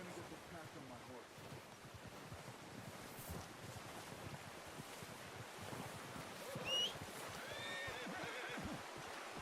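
A horse neighs once partway through in the video game Red Dead Redemption 2, heard over soft, steady wind and surf-like outdoor ambience.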